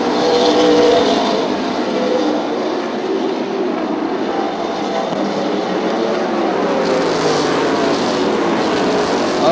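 Race cars roar past on an oval track in a close pack, a loud continuous engine rush that swells and fades slightly as they go by, with no talk.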